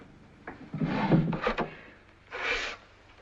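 A wooden desk drawer slides open in an office, first in a longer scraping rub and then in a second shorter slide, close and fairly loud with no speech.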